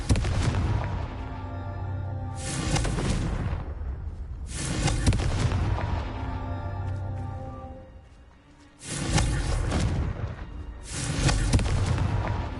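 Confringo spell blasts in a wizard video game come as several heavy, booming bursts, each a loud sustained roar that fades off before the next begins, with no speech heard between them.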